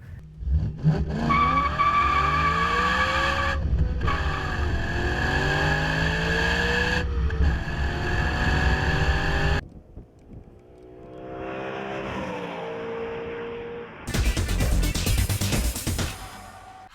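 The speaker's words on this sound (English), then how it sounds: "the exhaust note from this is nothing short of mesmerizing" A car engine revs hard in several long, loud, rising pulls with a rich exhaust note and brief gaps between them, ending in a quieter lull and then a final harsh burst.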